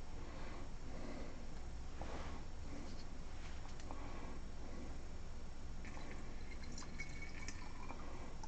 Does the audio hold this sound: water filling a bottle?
yes